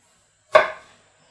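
A knife slicing through an apple while halving it for an apple tart, one crisp close cut that fades over about half a second.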